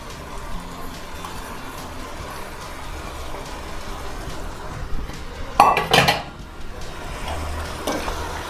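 Chopped capsicum and onion are stirred in a pan over full flame, with continuous scraping and sizzling and a loud burst of clattering metal around the middle.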